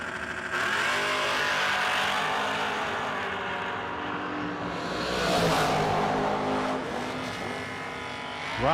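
Drag racing cars, one of them a Mustang, launch and run down the strip at a no-delay nationals event, their engines roaring loud and sustained and swelling midway, with a fresh rev at the very end.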